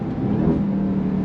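Supercharged engine of a 2025 Dodge Durango Hellcat Hammerhead performance SUV accelerating hard in second gear, a loud continuous roar with a steady whine layered over it, close and dense for the whole short stretch.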